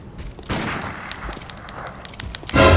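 Gunfire in the video game Bloodborne: a few sharp shots and booms over a short stretch, ending in a loud blast, with no talk.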